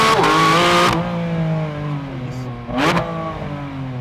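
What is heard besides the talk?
Porsche 718 Spyder RS 2024 engine revving through valved exhaust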